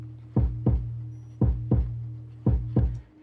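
A kick drum thumps in slow paired beats like a heartbeat, each pair followed by a gap. The hits are loud and deep, with long reverb tails spreading wide over a steady low ambient drone.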